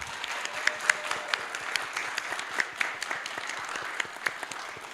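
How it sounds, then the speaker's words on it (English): A modest round of applause from the audience at a youth discussion forum's close, fairly quiet and sparse, with individual sharp claps standing out over a soft, steady patter. "Let's just give them a round of applause."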